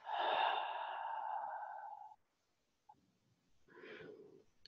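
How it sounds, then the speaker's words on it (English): Breath drawn in and released through an open mouth during a vinyasa yoga class, one long airy exhale, a pause, then a softer breath, close and quiet. "Breathing in, breathing out through an open mouth."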